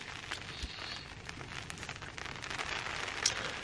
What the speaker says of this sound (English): oh, rain, look, can you hear that? That's nice. A nice rain